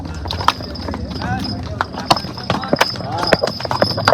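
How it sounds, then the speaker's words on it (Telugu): Horses walk single file along a crowded trail in Baisaran valley near Pahalgam, Kashmir. Their hooves clop irregularly and close by, while people talk over the steady hoofbeats. "ఇక మా వెనకాల గుర్రాలు కూడా వస్తున్నాయి కూడా."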